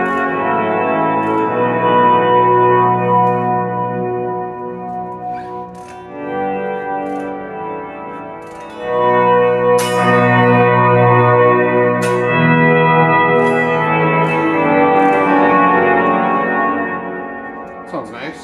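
Electric guitar played through a high-end delay and reverb pedal, notes swelling in softly and ringing out in long echoing washes, with a few sharper plucks over sustained tones; no speech over the playing.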